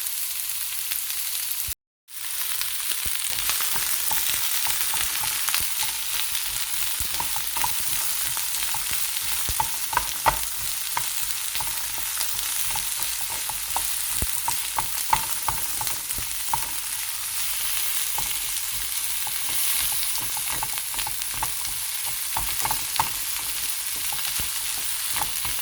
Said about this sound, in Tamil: இது ஒரு 4-5 நிமிஷத்துக்கு நம்ம வதக்கி வச்சுக்கலாம்